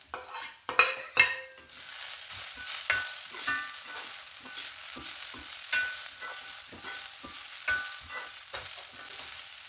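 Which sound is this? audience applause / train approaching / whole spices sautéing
whole spices sautéing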